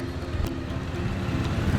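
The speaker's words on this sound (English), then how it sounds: "Sorry about the noise of traffic, it's insane." Street traffic in Thamel, Kathmandu: a steady low rumble of engines and passing vehicles with a faint horn-like tone, continuous and fairly close, no speech.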